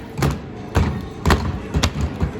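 A child bangs a mallet on pop-up moles in a whack-a-mole game at an indoor play park, four or five hard thuds in quick succession, close and loud, with an adult voice calling out in the background.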